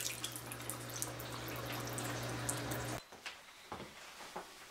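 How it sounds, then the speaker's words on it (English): Water drains from a Panda portable compact washing machine into a sink, a steady broadband splashing flow with a low hum for about three seconds, then cutting off to a few scattered drips. "Then when I want to drain, I simply put it to drain and the water will come out"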